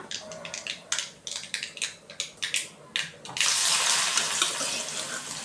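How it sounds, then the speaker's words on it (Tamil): Mustard seeds crackle and splutter in hot oil in a pan while cooking a Tamil-style yam fry, a fast run of sharp pops that merges into a dense, steady sizzle partway through, close and fairly loud with no talking. "கடுகு நல்லா பொரியட்டும்."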